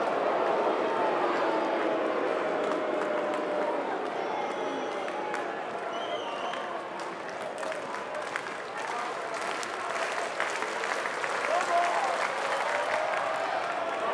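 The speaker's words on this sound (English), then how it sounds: "Crowd loving this. You feel the electricity in the air." A cricket crowd at a Surrey v Essex T20 match applauds steadily throughout, a dense, sustained wash of clapping and crowd noise with faint voices mixed in.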